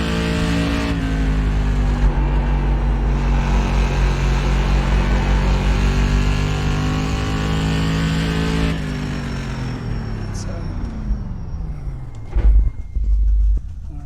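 Stock car engine in the iRacing game held at full throttle, a loud sustained harmonic roar that drops in pitch when the throttle lifts, followed by quieter idling and a couple of brief clunks near the end.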